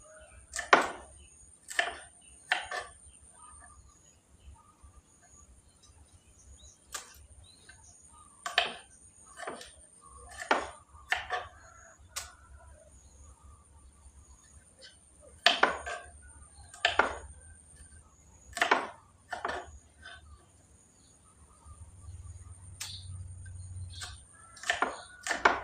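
A knife chops vegetables diagonally on a cutting board, a run of crisp, close, irregular knocks spread out with gaps, over a faint steady hum.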